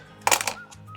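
A rotary or straight blade slicing quilting fabric into four 2.5-inch squares for a curved log cabin block gives a brief close burst of crisp cutting and rustling, then quieter handling, with no talk.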